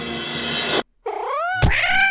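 Loud cat meows and yowls from a video game, close and clear, one after another with a short silent break and a sharp thump near the end.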